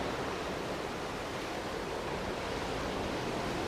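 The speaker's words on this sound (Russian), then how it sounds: "Волны." Ocean waves on Bali roll as a steady, full, broadband wash of surf. The rushing noise is loud and continuous, with no distinct breaks or voices.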